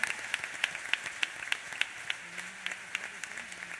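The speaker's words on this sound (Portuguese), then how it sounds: "Mais uma oferta de aplauso ao Senhor e você vai poder sentar-se." Church congregation applauding together, rhythmic clapping in unison with sharp regular beats and a hum of voices beneath, moderately loud and close throughout.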